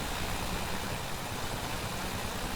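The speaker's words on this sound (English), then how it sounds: "maybe I will be able to hear you over the sound of the engines now" The airship engines in the game Worlds Adrift drone on as a steady, noisy hum with a broad hiss. They run without a break and no one speaks.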